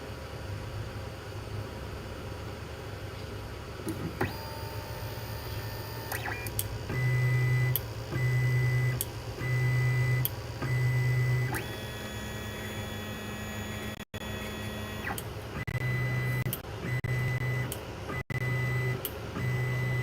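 A Wanhao 3D printer with an automatic bed that is malfunctioning, heard through steady motor hum and whine, with pulsing stepper tones that start and stop in repeated bursts.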